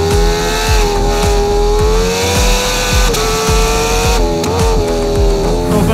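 A Ducati Panigale V4 SP on a race track screams at high revs, with a loud steady engine roar that rises and falls through gear changes and repeated rhythmic pulses, close and dominant, with no talking.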